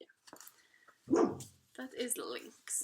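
A pet dog barks indoors during a cross-stitch show-and-tell: one loud, close bark between stretches of someone talking, who speaks again just after it.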